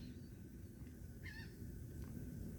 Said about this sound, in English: I hear that bird, that red-headed woodpecker